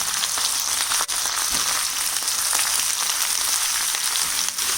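Potato and eggplant pieces fry in hot oil in a pan for an aloo baigan bhujia, giving a steady, continuous sizzle with faint scraping as the mix is stirred, close up and without talk.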